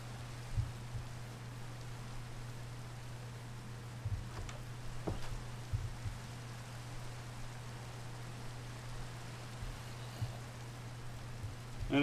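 Soft, steady rain hiss in the video game Farming Valley, with a faint low hum underneath, a few scattered drip ticks, quiet and continuous throughout.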